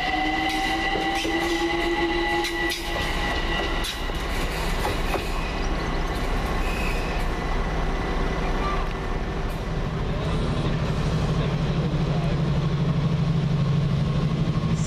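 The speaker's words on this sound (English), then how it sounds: "And next out, 378-230. Working the 1410 London Overground service from Stratford to Richmond." London Overground Class 378 electric unit 378-230 pulls out on a Stratford to Richmond service at Gospel Oak, a steady rail rumble and whine with a rising motor hum toward the end, fairly close and continuous.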